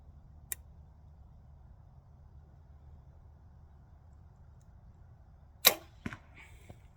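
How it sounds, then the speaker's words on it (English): An Athens Axxis 35 compound bow with 80 lb limbs and a noisy sight fires a shot, giving a sharp loud snap followed by a few quick rattling clicks. An earlier faint tick sounds over quiet outdoor background. "This sight has always been loud."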